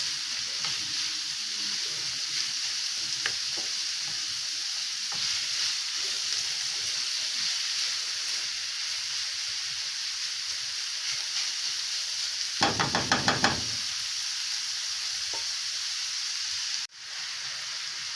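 Onion sizzles and fries in a pan, a steady soft hiss throughout with a brief louder stirring burst, then a sharp clatter near the end.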